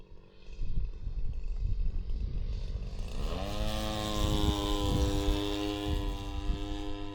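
The G26 gas engine of a Balsa USA Piper Cub RC airplane with a 104-inch wingspan spins an 18x8 propeller. It drones loudly, then revs up to a high, steady whine that holds, with nobody speaking.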